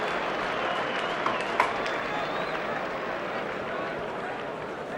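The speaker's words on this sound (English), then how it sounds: "the cheer goes up from the East Stand" A rugby crowd in the East Stand cheering after a conversion, a broad sustained roar of voices and clapping heard from a distance, steady for several seconds with a brief sharper burst early on.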